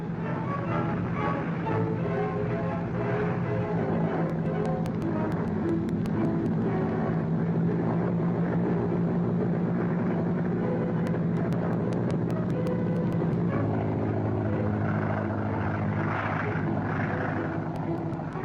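A Boeing B-17 Flying Fortress bomber taking off from an airfield produces a steady, heavy droning roar of piston engines, continuous and fairly constant in level throughout.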